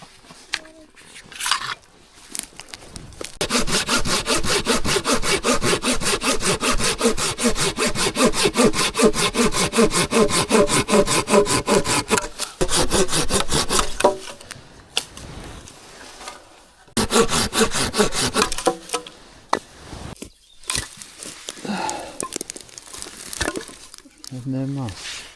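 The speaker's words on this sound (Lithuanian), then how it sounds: "Gali paimti pjūklą." Hand saw cutting wood on a river trip, a long run of fast, regular rasping back-and-forth strokes, loud and close, then pausing and resuming in shorter bursts with people talking in between.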